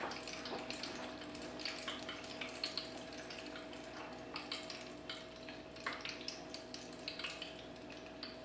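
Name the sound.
pumpkin donut holes frying in oil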